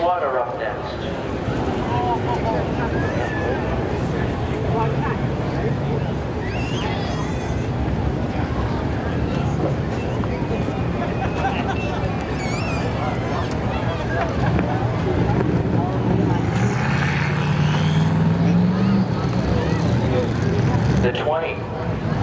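Drag race cars at Seekonk Speedway, including a 94 Camaro, give a steady loud engine roar under wind buffeting on the microphone, with a rising engine pitch near the end and crowd murmur in the background.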